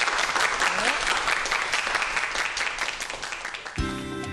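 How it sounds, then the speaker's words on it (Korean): Enthusiastic audience applause at a science talk, many hands clapping in a dense roar that eases slightly before music comes in near the end. "자, 오늘 이 태양전지에 대해서 정말 재밌는 얘기를 해주신 우리 차 박사님께 여러분 큰 박수 부탁드리겠습니다."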